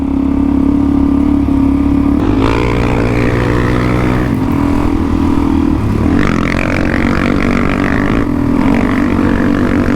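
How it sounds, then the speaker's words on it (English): A loud, throaty Suzuki DR-Z400E dual-sport motorcycle with an FMF full aftermarket exhaust revs and drones continuously, its pitch rising and falling as the bike accelerates nearby. "like Rowan, they are bloody noisy. Definitely gives the bike a bit more oomph, but they are a noisy exhaust"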